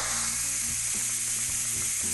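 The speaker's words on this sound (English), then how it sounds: "right when I push this open, you do not want your face by here and it's really loud and hot." An electric 9-in-1 pressure cooker is pushed open and releases its steam as a loud, continuous hiss with a low rumbling, sputtering undertone. The sound is close and stays even throughout.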